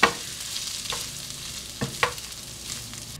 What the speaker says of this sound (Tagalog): Ibuhos na natin yung mixed veggies dito.